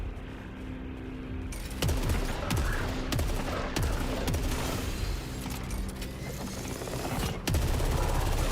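Eruptor hand cannon fired in the video game SAROS, a series of heavy, booming shots with sharp onsets and rumbling tails, loud and close over a steady game ambience.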